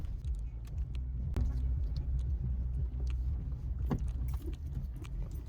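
Steady low rumble of cars crawling in a congested one-way lane on the road from Delhi toward Manali, heard from inside a vehicle, with a light jingle of keys and a few faint clicks over the continuous drone.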